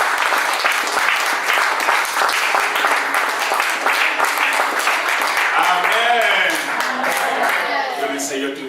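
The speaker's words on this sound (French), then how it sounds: "Applaudissez très fort." A church congregation claps loudly and continuously, dense sustained applause filling the space, while a voice speaks and sings over it toward the end.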